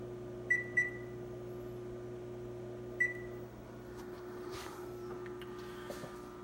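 Three short electronic beeps from a Whirlpool stainless steel microwave's keypad, two close together then one more after a pause, over a quiet steady hum.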